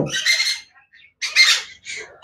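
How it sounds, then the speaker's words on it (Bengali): A chattering lory gives three loud, harsh squawking calls close by, each a short raspy burst separated by brief silences. "এটা কিন্তু সব থেকে বেশি কথা বলতে পারে চ্যাটারিং লরি"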